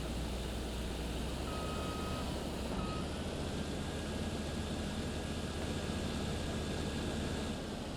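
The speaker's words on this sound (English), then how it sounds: "I'm gonna unload all of the corn into the trailer" In the Farming Simulator game, a combine harvester unloads corn into a trailer, giving a steady loud engine and machinery drone throughout, with faint beeping tones near the start.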